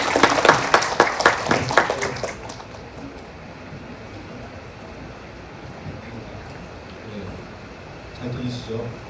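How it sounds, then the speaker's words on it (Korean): An audience at an education forum applauds for a couple of seconds with clear clapping that fades into room hiss, then murmuring sounds from the room near the end. "큰 박수로 환영해 주시기 바랍니다"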